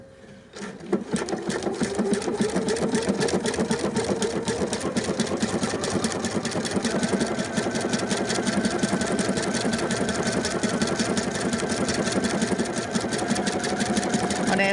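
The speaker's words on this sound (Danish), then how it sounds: "Så starter jeg den altså med nålen nu i den pink streg, og så skulle jeg få det samme flow i sømmen" Sewing machine stitching a reflective band, a steady rapid mechanical stitching rhythm running continuously and close after a brief quiet start.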